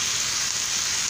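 A refogado sautéing in a pan for a bacon and tomato pie with sweetcorn added, a steady, bright hiss of frying held at an even level throughout a brief moment.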